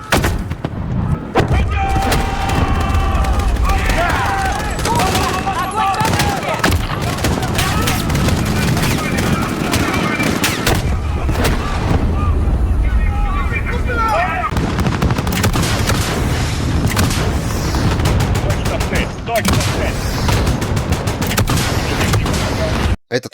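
Sustained gunfire and heavy cannon blasts in a Call of Duty: Modern Warfare (2019) battle scene as a rebel force assaults a Russian general's base, loud and continuous with dense bursts and booms throughout.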